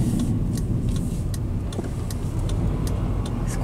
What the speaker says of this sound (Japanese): あまり踏まなくてもこう加速してくれれば回転数を上げずに済む。